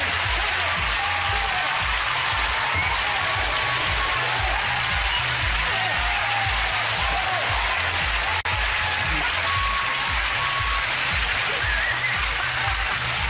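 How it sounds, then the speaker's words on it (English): Studio audience at Ant & Dec's Saturday Night Takeaway breaking into steady, sustained applause for the whole stretch, dense and even in loudness, with a rhythmic low musical pulse running underneath. "Give him a round of applause."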